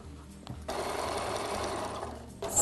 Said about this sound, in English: So now I'm going to machine it.